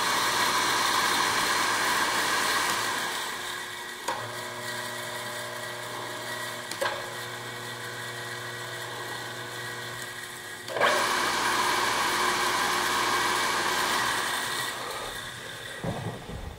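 A 2002 SCMI T130 wood shaper with a three-roll power feed runs steadily with a loud mechanical whine and motor hum, shifting pitch with clicks at several points as it steps through its speeds, with no talking.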